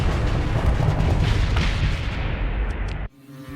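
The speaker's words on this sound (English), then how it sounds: "Carpet bomb!" Carpet bombing in the space game Starsector: a dense, continuous roar of overlapping explosions and rumbling blasts that stops abruptly near the end, leaving a quieter hum.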